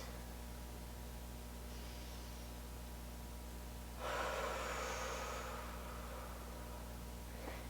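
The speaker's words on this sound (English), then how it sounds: "Just taking a couple long deep breaths." A long, deep breath during a gentle Kundalini yoga stretch, a soft breathy rush rising over steady background hum and fading slowly.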